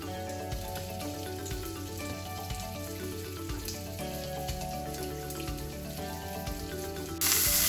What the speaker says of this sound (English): So I've just put the roast into the hot pan. It's pretty smoking. We're going to sear this on all sides.